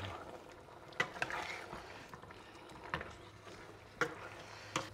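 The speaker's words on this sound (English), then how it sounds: "Just give it a nice stir." Warm fusilli pasta stirred into braised lamb ragu in a pan, a soft continuous wet churning with a low simmer beneath and a few sharp clinks of the utensil against the pan.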